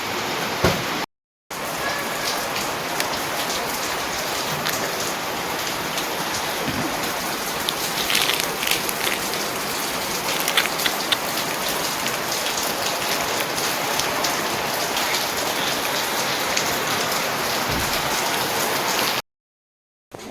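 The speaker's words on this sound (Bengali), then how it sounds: "আর এই যে দেখো কি জোরে বৃষ্টি আরম্ভ হয়ে গেছে।" Heavy rain pours down in a dense, unbroken hiss, pattering hard on surfaces nearby for a long stretch with no talking.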